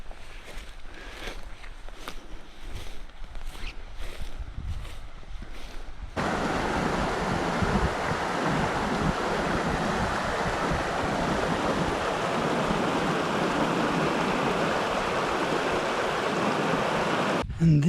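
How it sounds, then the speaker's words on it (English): A creek in Øvre Pasvik National Park, Norway, flowing in a steady broadband rush that grows louder and closer partway through, with wind noise buffeting the microphone early on. "Going off the trail for a few minutes because I hear a creek down here."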